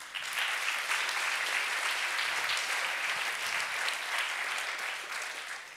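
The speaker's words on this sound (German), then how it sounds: "Also mega Applaus" Sustained audience applause at a youth science competition award ceremony in Augsburg, a steady dense clapping from a crowd that stays loud for the whole stretch without fading.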